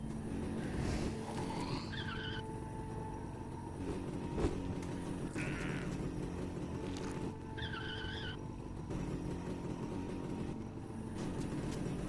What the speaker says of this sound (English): And we also get to drive a motorcycle.